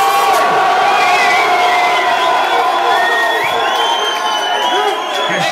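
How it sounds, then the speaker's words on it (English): A rowdy crowd at a Don't Flop rap battle cheers, whoops and shouts for an MC, a loud, dense roar that holds steady the whole time with no pause. "make some noise for Mr. Tongue Twister, let's go"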